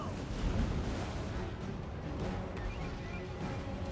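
Mortar artillery fire rumbles through a Total War: Warhammer 2 Mortal Empires battle fought by the Empire under Balthasar Gelt, a dense, continuous din of booms and blasts with faint voices mixed in.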